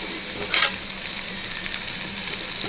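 Okra (vendakkai) fries in a small amount of oil over a low flame, giving a steady, close sizzle throughout with one brief louder crackle of stirring early on.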